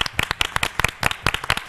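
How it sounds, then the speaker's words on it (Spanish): A studio audience on a late-night Spanish-language news talk show gives brief, sharp applause, with dense close clapping in uneven bursts throughout. "Un aplauso."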